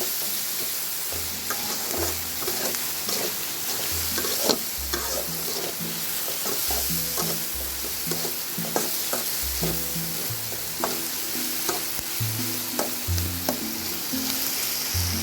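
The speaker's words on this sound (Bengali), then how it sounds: "এখন নেড়ে চেড়ে ভালো করে ভেজে নিচ্ছি" Prawns fry with green chilli in a pan, giving a steady close-up sizzle with repeated scraping and knocking of a spatula as they are stirred throughout, alone without any voices.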